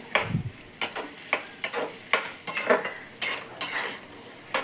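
A spoon scrapes and clinks around a pan of pasta cooking with onion, garlic, spice mix, salt and turmeric, giving roughly a dozen sharp, regular strikes with faint frying underneath and no talking.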